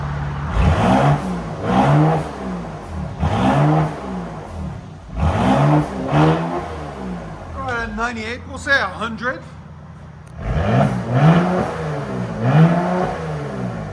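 A Mercedes GLE 43 AMG with a 3.0L twin-turbo V6 and muffler delete revs repeatedly, rising and falling engine swells in close succession with a brief pause between them, while a voice speaks over the middle.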